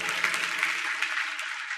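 Congregation applause in a church service, a steady wash of many hands clapping at moderate distance, continuous through the short moment without speech.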